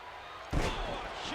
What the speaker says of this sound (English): Belly to back, slamming him into the mat there.